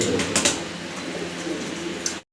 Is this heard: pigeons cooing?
yes